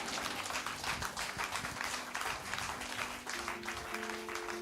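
A church congregation acclaims with clapping and cheering, a dense sustained roar of many voices and hands filling the room.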